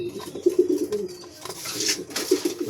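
Racing pigeons coo softly and repeatedly nearby in a loft, low throaty burbling calls in short bursts with brief pauses between.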